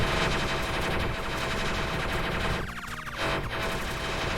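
Rapid continuous gunfire from shooting at a boss in the video game Super Crome Bullet Purgatory, a loud dense stream of shots running throughout with a brief dip midway.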